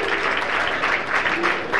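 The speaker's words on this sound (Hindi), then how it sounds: "आप सभी बच्चों के उत्साहवर्धन के लिए तालियां अनवरत बजाते रहें।" An audience at a school prize ceremony applauds steadily for winning schoolchildren, a dense continuous clapping that stays loud throughout.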